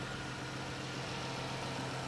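Car engine idling smoothly at an auction yard, a steady low hum with a constant even drone, nothing else over it.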